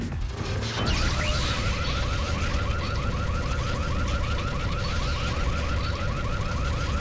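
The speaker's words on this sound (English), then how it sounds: "That makes a car alarm noise." A car alarm noise in Super Mario Galaxy 2 blares with a rapid repeating warble after a brief thud, continuing steadily and fairly loud with no talking.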